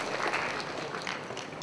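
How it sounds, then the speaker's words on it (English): Audience applause for volunteer Google Maps editors at a tech talk in Chennai, a steady broadband patter of many hands clapping, moderately loud and continuous, with no talking over it. "So a round of applause."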